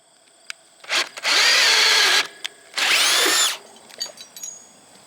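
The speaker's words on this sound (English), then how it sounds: "all I gotta do now is just drill them out" A power drill bores hinge holes for a fence gate in two loud, sustained bursts of about a second each, whining close up with short clicks and handling noises between.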